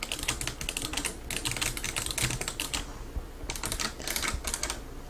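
Fast typing on a Razer Ornata Chroma Hybrid keyboard with mecha-membrane switches, a dense run of soft, close clicks in two bursts separated by a short pause, with no talking.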